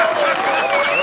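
Audience clapping at a live show, a dense steady burst of applause with a faint crowd murmur underneath, loud and close for the full second.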